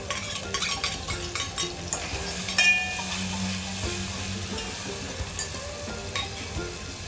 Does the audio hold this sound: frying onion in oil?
yes